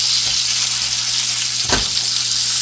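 Fish frying in coconut oil in a pan, a steady close hiss of sizzling with one brief louder crackle or pop partway through, no talking.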